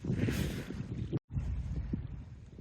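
Choppy lagoon waves slap around a kayak paddling toward Ventės ragas, with strong wind roaring across the microphone, a loud rough continuous rush broken by one brief dropout.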